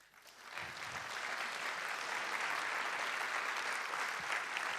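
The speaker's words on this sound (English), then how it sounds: "So a round of applause, please." Sustained applause from a conference crowd, steady and fairly loud, building briefly at the start and then holding a dense, even clapping wash throughout.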